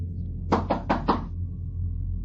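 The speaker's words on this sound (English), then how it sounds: "a knock came at my window" Four sharp knocks on a window sound in quick succession at night, close and distinct over a low steady room hum, then silence.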